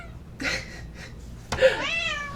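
A cat meows twice nearby, a short soft call followed by a longer, rising and falling meow.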